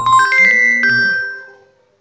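A telephone rings loudly with a bright, tuneful electronic ringtone, a few quick melodic notes that then fade away, heard alone.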